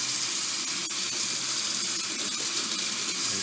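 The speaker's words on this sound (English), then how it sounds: "Put some water on it." Water runs steadily from a kitchen sink faucet into a just-unclogged sink with a garbage disposal, a constant close hiss and splash with no speech.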